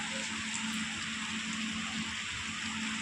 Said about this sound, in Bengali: দেখো বন্ধুরা কীরকম বৃষ্টি হচ্ছে